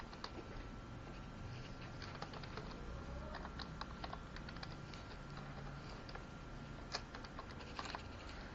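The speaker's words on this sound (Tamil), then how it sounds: "இப்போ நான் இங்க டைப் பண்ணிக்கிறேன்." Steady clicking of keys on a computer keyboard as a UPI ID is typed in, quick irregular taps running the whole time at low level over a faint room hiss, with no voices.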